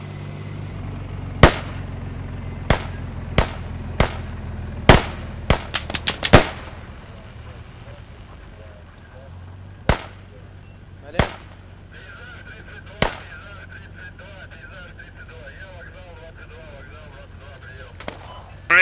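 Video-game battle with grenades thrown over walls: sharp, loud gunshots and blasts crack out singly and in a rapid cluster, then sparser explosions follow at intervals over faint background noise, with no talk.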